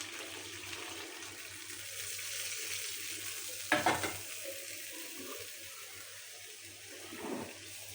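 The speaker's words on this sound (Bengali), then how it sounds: "তো ঝোলটা এখন দিয়ে দিব।" Broth poured into browned, sautéed meat in a hot pan: a steady background sizzle, then a sudden splash and burst of hissing partway through that settles back into simmering bubbling, close up and without speech.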